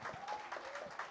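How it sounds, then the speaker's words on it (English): Applause from a large audience at a kids' cultural program, steady clapping over a short stretch with a few voices and a faint tonal sound mixed in, moderately quiet. "Please, everyone, give them a big round of applause."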